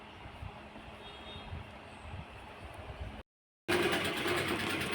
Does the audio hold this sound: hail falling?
no